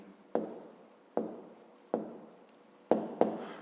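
Hand writing numbers during a fifth-grade maths exercise, a series of five sharp pen taps and short scratching strokes, close and isolated, with quiet gaps between them.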